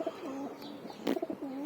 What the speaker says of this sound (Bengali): এখানে অল্প কয়টা কবুতর আছে